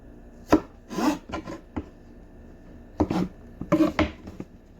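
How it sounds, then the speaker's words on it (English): A knife chopping strawberries into quarters on a cutting board, with sharp, separate cuts in small clusters and pauses between them, close and clear. "I'm going to start by chopping my strawberries, taking the top off, and then cutting into quarters"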